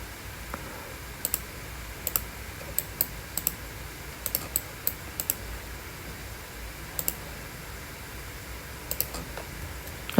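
A computer mouse clicks in short scattered bursts while PCB tracks are designed, giving sharp close clicks over a faint steady hum and no speech.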